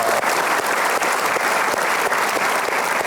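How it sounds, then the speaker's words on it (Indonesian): An audience in a studio at a talk-show event claps together in a dense, loud, continuous round of applause that holds steady throughout. "Kita berikan aplaus dong."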